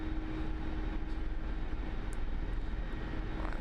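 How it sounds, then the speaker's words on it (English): Mi-24 Hind attack helicopter in the DCS flight simulator with its engines pushed to maximum power, a steady, loud broadband turbine roar with a low droning hum, unbroken throughout and with no talk. "we're going to increase power to maximum available, and then we're going to ask for forward cyclic"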